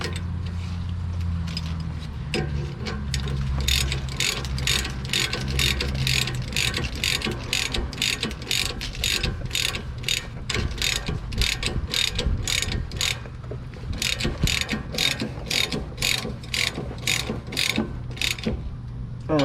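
Rapid ratchet clicking while tightening steering stabilizer nuts on a 2015 Ford F-250, with long steady runs of sharp, close, evenly spaced clicks and a low mechanical rumble underneath, no talking.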